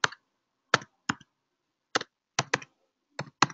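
A computer keyboard is tapped at close range in a quiet room, giving about nine separate crisp keystrokes at an uneven, unhurried pace, each one short and distinct, with nothing else heard between them.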